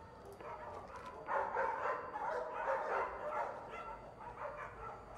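A Rottweiler barks somewhere in the distance, a faint, muffled string of repeated barks and yips over a steady background hum, with no clear voices in the foreground.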